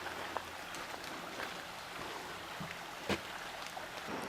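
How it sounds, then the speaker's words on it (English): A creek runs beside a rural property with a barn, gazebo and garden field. The water makes a faint, steady, rushing hiss, with a few soft splashes and clicks in a quiet outdoor setting. No one speaks. "So you can hear the water."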